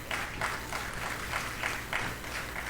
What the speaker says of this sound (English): Welcome these personalities once more by a round of applause.